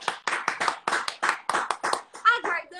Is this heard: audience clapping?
yes